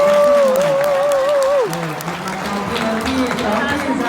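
Applause from a crowd at a youth boxing bout opening a market fight card, a steady patter of clapping running under a loud announcer's voice throughout.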